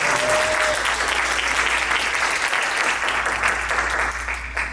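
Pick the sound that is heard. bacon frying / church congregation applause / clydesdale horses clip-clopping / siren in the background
church congregation applause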